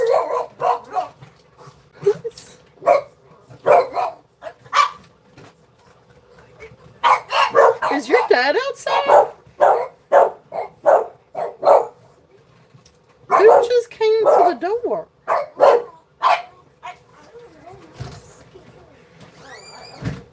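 Dogs riled up by someone at the door bark repeatedly in bursts, with whimpers and yips, interspersed with a person talking nearby.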